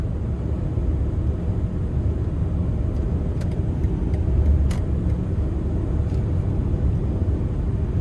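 A 2025 BMW iX eDrive50 electric SUV accelerating, heard from inside as a steady, loud low road and tyre rumble with only faint whine. No one speaks.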